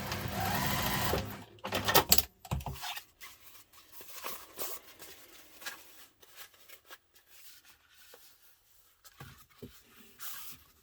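A sewing machine stitches fabric for a messenger bag in a loud, rapid whirring burst at first, then quieter intermittent rustling, handling sounds and short stitching runs follow.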